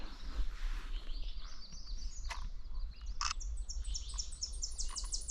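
Ovenbird singing outdoors in Nova Scotia: a loud, rising series of repeated bright chirped phrases that builds toward the end, with other faint birds and a low rumble in the background.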